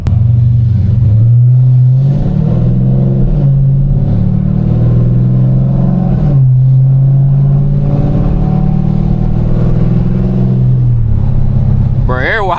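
A Dodge Charger Scat Pack engine rumbles loudly up close, its pitch rising and falling as the car pulls away, steady and droning throughout.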